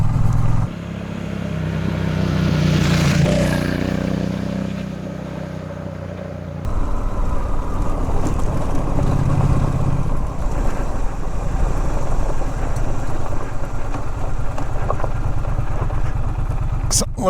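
A Triumph Bonneville dual-sport motorcycle engine runs while riding on the Mogollon Rim in Arizona. It holds a steady, close drone that shifts partway through as the ride continues, with some speech over it.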